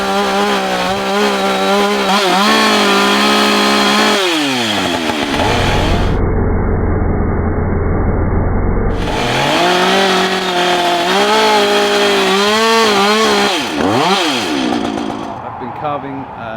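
A chainsaw carving wood, wielded by a professional chainsaw artist, revs loudly and close up with rising and falling engine pitch, dropping to a rough low idle midway before roaring back; talk comes in over parts of it.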